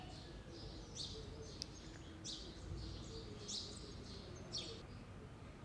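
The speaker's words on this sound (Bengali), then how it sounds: "পাখির শব্দ শোনা যাচ্ছে শুধু।" Small birds chirp and tweet in short, repeated bursts beside a quiet village pond on a winter morning, faint and fairly distant over a low steady background.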